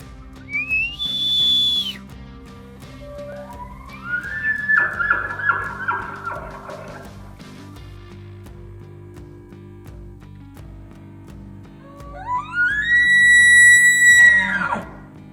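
Elk bugling as it approaches, three long rising whistles that climb to high squealing tones with grunting at their ends, spaced several seconds apart over a low background hum.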